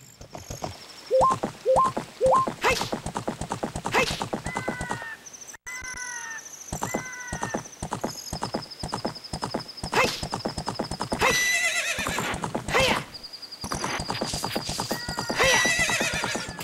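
A galloping horse in the video game Ocarina of Time: rhythmic, close hoofbeats run throughout, broken by several loud neighs and whinnies, with bright game chime tones layered over the clatter.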